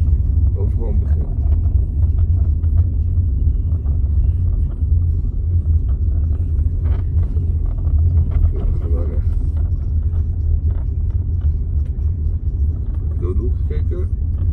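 A Mercedes A-Class car drives during a driving lesson, its steady low engine and road rumble continuing loud and close throughout while people talk over it inside the cabin.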